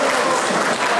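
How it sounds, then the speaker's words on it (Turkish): Audience applause at a meeting, a dense, steady wash of clapping that fills the whole second without a break or any voice over it. "Kıymetli alkışlar"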